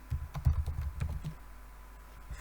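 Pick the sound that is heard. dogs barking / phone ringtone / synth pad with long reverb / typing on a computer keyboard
typing on a computer keyboard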